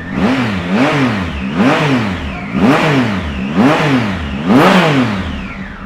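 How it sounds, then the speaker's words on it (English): A 2018 Triumph Tiger 1050 Sport triple with a baffled Beowulf exhaust is blipped in about six loud, close revs at a regular rhythm, each rising sharply and falling back to idle. "You do get a 3-cylinder engine and like I said it has got the Beowulf exhaust on it"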